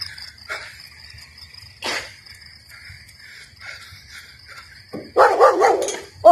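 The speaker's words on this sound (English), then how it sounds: "There's a dog." A dog barks several times at a distance over a quiet background with a steady insect-like whine, then a louder burst of barking near the end.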